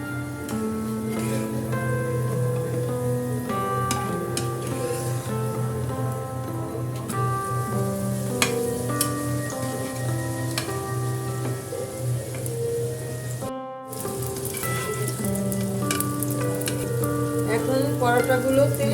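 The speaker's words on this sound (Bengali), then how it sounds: "সাথে আমি পরোটা ভাজতেছি।" Paratha frying in a shallow layer of hot oil for a goat trotter nehari meal, giving a steady close sizzle that runs almost unbroken for nearly twenty seconds beneath sustained tonal background sounds, with one brief dropout.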